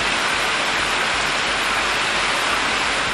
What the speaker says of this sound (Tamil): குற்றால மெயின் அருவி, சிற்றருவி, ஐந்தருவி உள்ளிட்ட அனைத்து அருவிகளிலும் வெள்ளப்பெருக்கு ஏற்பட்டது